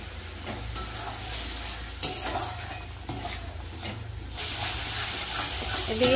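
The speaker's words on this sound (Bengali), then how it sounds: "এবার ভালো করে মশলাটা কষিয়ে নেব।" Spice paste with cumin powder and salt fries in a pan for an eggplant and khalse fish curry, a steady hissing sizzle layered with scraping stirs and occasional utensil knocks, growing louder toward the end.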